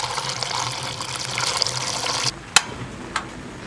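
Boiling water poured from a kettle into a clay pot holding pork heart, chicken, morel mushrooms, goji berries, scallion, ginger and peppercorns; a steady close splashing pour that stops abruptly, followed by two sharp knocks.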